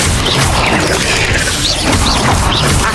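Incendio fire spell cast in Hogwarts Legacy, a dense, loud burst of crackling, whooshing magical flame and impact noise that fills the whole moment without a break.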